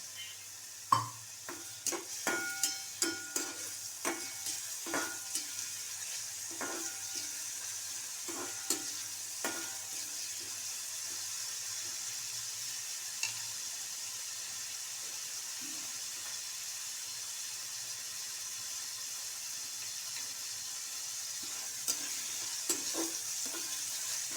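Oil sizzles in a frying pan while a vegetable dish with potato is cooked, with faint steady hiss and scattered clicks and stirring knocks, quiet throughout with no speech.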